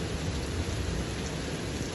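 Steady heavy rain pours down through a storm, with deep rolling thunder rumbling underneath; a dense, loud, continuous wash with no voices.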